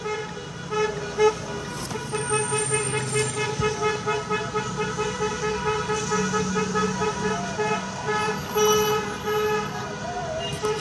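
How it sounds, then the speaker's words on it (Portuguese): Car horns honk repeatedly in a protest motorcade on Consolação in São Paulo, with overlapping toots and sustained blasts over engine and traffic noise, while people talk throughout. "muito buzinaço aqui agora"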